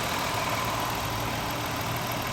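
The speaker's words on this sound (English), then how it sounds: "the engine has a distinct miss. You can hear it fluttering." A 2000 Toyota 3.0 VVT engine idling with a misfire, one cylinder dropping out, runs as a steady, close, continuous drone with a faint flutter and no talk over it.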